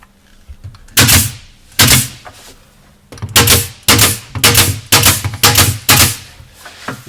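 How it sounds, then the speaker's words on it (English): A 23 gauge headless pin nailer fires again and again into wood while a kitchen tray storage unit is assembled, giving sharp, loud, close pneumatic snaps: two spaced shots, then a quicker run of about six. "we're just using a 23 gauge headless pin gun"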